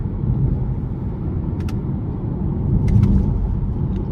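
2023 Subaru Ascent Limited with a 2.4 turbo four-cylinder accelerating hard, a steady low cabin engine drone and road rumble swelling slightly toward the end, with a few faint ticks.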